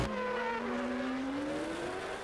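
1993 Formula 1 car with a V8 engine screaming at high revs, a loud continuous whine with the pitch climbing steadily over about two seconds, close and alone with no talk.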